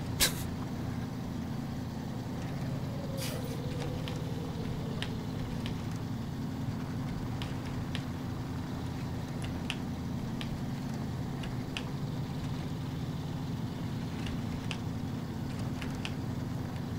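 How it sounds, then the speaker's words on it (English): A truck engine in the SnowRunner video game drones with a steady, throaty low rumble throughout, moderately loud, with a brief hiss and scattered light clicks over it. "I like the throaty sound of this truck."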